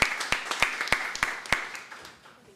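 Applause at the close of an evening event at the OAB, heard as evenly spaced sharp claps from a small crowd, fairly faint and fading toward the end.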